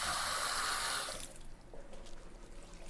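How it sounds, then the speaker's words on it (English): Water splashes into gravy in a pan as a loud steady pour for about a second, then cuts off into quieter sizzling and faint liquid sounds with no talking. "And we're gonna add a little bit of water."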